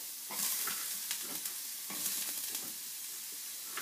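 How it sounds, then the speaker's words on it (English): Chopped apple sizzles and crackles steadily in a hot pan, a soft close frying hiss with occasional stirring scrapes and pops, no voices. "I've chopped up an apple, and we're going to let it cook for a little bit up in the pan."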